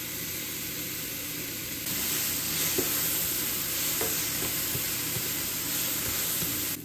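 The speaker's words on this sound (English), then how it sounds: "we got some olive oil in the pan. I'm gonna drop some bell pepper and some red onion in." Bell pepper, red onion and pineapple fry in olive oil in a pan, giving a loud, constant close-up hiss that jumps in level as more food goes in, with occasional soft stirring clicks and no talking.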